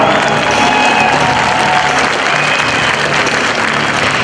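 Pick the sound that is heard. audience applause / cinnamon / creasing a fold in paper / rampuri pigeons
audience applause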